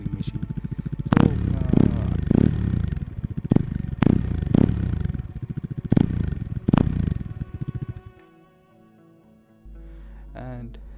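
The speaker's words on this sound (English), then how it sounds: "I just really love the exhaust note. It's really deep, bassy." A Bajaj Dominar 400 motorcycle exhausts with a deep, bassy note, rumbling steadily with several sharp revs or blips before cutting to near quiet at the end.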